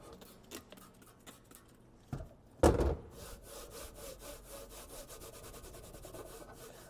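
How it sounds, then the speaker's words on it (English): A dishwasher part is scrubbed with a non-scratch pad, giving steady, rhythmic rubbing strokes up close, with a heavier scraping burst partway through. "Once again, cleaning it with a non-scratch pad."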